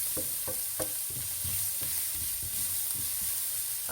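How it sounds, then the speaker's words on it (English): Onion softening in a pan over low heat, with a steady low sizzle running beneath repeated scrapes and taps of stirring, fairly close. "So I'm just going to let the onion soften up there for a minute or two on a low heat"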